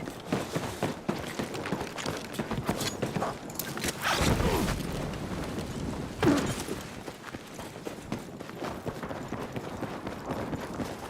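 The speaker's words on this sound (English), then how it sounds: "Sometimes I feel like I can hear my footsteps like way more than the enemy's footsteps." Footsteps in the video game Battlefield 6, a quick run of steady near steps with faint scuffs and gear rattle, one louder thump partway through, no talking.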